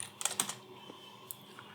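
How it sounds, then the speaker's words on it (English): Computer keyboard typing in a quiet room, a quick cluster of several keystrokes near the start followed by a few sparse, fainter taps. "Lots of typing."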